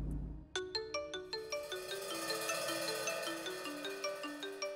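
A phone ringtone plays a repeating melodic tone pattern after a brief low thump, steady and fairly loud, with no talk over it.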